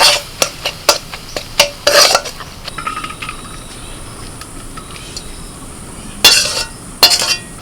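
A spoon clinks and scrapes against a wok while prawn filling is mixed with soy sauce, a run of sharp quick taps early on, a quieter stretch, then a few more loud clatters, without speech.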